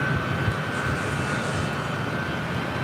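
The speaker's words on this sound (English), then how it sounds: "Delta Airlines Flight 744 heading to Atlanta, Georgia, the 757-200." A Delta Airlines Boeing 757-200 at LAX gives off a steady jet engine roar with a sustained whine, fairly close and continuous over a few seconds, with no talking.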